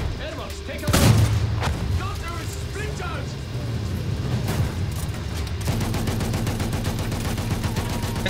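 Battlefield 1 battle at a bridge with a field gun firing, booming gunfire and a sharp blast early on, then steady rumbling combat noise and engine drone under a voice.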